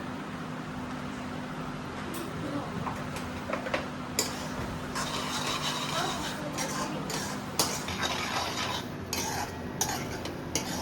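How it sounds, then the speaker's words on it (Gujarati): Baingan bharta, mashed roasted eggplant, is stirred and mixed with spices in a pan, giving soft scraping and tapping of a spoon against the pan over a steady background hum, with occasional sharper clicks. "ત્યાર પછી આને બરાબર મિક્સ કરી લઈશું."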